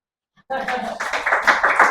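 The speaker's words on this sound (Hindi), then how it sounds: "कोमल के लिए तालियां।" Students in a physics coaching classroom break into clapping after a brief silence, a short, close burst of quick hand claps that lasts about a second and a half.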